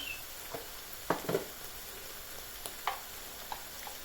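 Tomato paste with chili flakes and black pepper sizzles quietly in a frying pan, a faint steady hiss broken by a few soft pops and scraping stirs.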